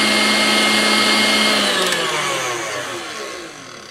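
An electric mixer whips oil into softened butter to make spreadable butter, a steady loud whirring drone that slowly drops in pitch and loudness as the mixture thickens.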